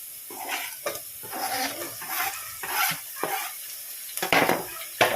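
Chopped tomato stirred and sautéed in a hot pan for an okra milk curry (vendakka paal curry), giving a close, steady sizzle broken by repeated scraping stirs of a spoon against the pan.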